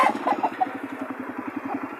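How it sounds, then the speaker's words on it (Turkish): Chickens and roosters at a poultry market in Dörtyol, Hatay, cluck in a steady, busy chorus, with a few higher squawks standing out against a low rhythmic background hum. "Bunlar da tavuklarımız."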